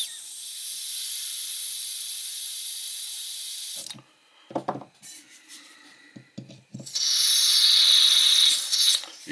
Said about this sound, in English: When you start, butane starts spitting out at you, let off of it.